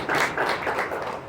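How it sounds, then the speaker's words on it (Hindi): Brief burst of applause at an election chapter during a Catholic Holy Mass, congratulating newly elected office holders; the clapping is dense and fairly close and fades slightly toward the end. "आज हम भरपूर तालियों में उन ज़िम्मेदारान को जिन्होंने आज जिम्मेदारी ली है मुबारकबाद भी पेश करते हैं"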